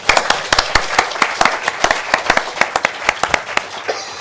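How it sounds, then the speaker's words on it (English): A smaller audience at a Growth Commission economics event gives a round of applause: distinct, individual claps rattle quickly and unevenly, fairly close and loud, with no talking. "Give yourself a round of applause."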